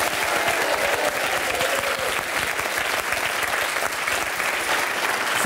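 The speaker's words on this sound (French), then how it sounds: "On applaudit Mustapha et la tragédie." TV studio audience applause, steady full clapping from many hands at moderate loudness, continuing evenly throughout with little else audible.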